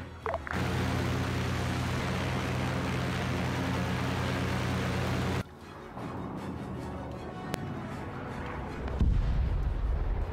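Bomb explosions and heavy rumbling blasts in the World War 2 Soviet armor battle of the Arma 3 video game: a loud, continuous roar for about five seconds, then a sudden drop, scattered thuds, and a renewed deep boom near the end.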